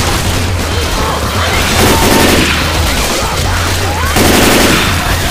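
Dense, constant gunfire from survivors' weapons in Left 4 Dead 2 survival mode on the Swamp Fever plantation map, loud rapid shots layered with booms and game chaos.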